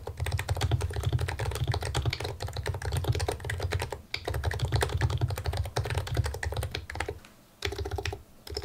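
Rapid, continuous keystrokes on a mechanical keyboard, close and fairly loud, with a deep thocky click to each press and a brief pause midway.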